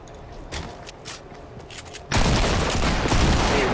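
A double-barrel shotgun fires in a battle royale video game: scattered shots and muffled activity, then a sudden loud, sustained burst of gunfire that fills the rest of the moment.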